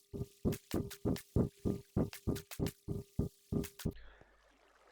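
Water buckets emptied one after another in a video game, about fourteen short, evenly spaced splashy bursts at close range, each crisp and alone, ending in a quieter ambient wash.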